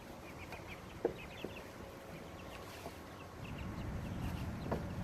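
Chickens cluck on a pasture farm with scattered soft clucks and a few sharper calls, faint and somewhat distant over steady outdoor background noise.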